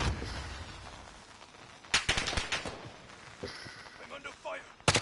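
Bursts of automatic gunfire crackle through a Call of Duty Warzone match, with a loud volley in the middle and another sharp burst at the end, mixed with game sounds and background noise.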